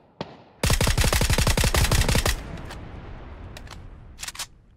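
Suppressed VSS rifle fire in PUBG, a rapid string of about twenty muffled shots in quick rhythm, followed by quieter scattered clicks and a few soft distant pops.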